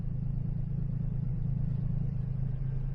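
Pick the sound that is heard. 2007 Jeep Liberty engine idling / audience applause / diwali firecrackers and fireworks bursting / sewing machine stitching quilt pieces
2007 Jeep Liberty engine idling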